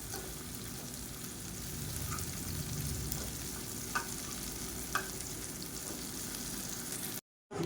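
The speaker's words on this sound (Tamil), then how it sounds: "இப்போ வாழைக்காயை சேர்த்துட்டு நல்லா ஒரு நிமிஷம் ஆயிடுச்சு இப்போ திருப்பி விட்டுக்கலாம்" Plantain pieces fry crisp in hot oil in a pan with a steady, close sizzle throughout, plus a few faint clicks as the pieces are turned.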